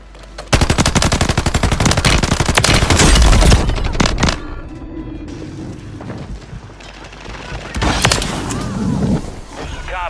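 Rapid automatic gunfire rattles loudly in Rebirth Island, a dense burst of shots for a few seconds, followed by quieter scattered firing and game noise.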